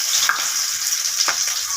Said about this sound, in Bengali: এর মধ্যে আমি পেঁয়াজ কুচিটা দিয়ে দেবো।